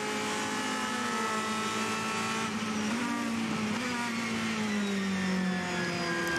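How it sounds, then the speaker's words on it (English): A Ferrari GT race car at the 2014 24 Hours of Le Mans roars loudly through the Ford chicane, its engine note sustained and shifting in pitch as it passes close by, with no talk over it. "So here comes the 51 Ferrari through the last, the Ford chicane."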